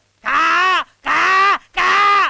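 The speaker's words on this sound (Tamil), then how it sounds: "காக்காய் தான் வெளியில சோறு வச்சுட்டோம், உள்ள வந்து கத்திட்டு இருக்கு." A crow caws indoors in a house in a Tamil film scene, giving three long, loud, harsh drawn-out calls with short gaps between them, close by and with no speech.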